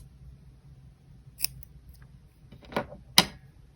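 Scissors snip crochet yarn in a quiet room: a few sharp metallic clicks, with two distinct close snips near the end.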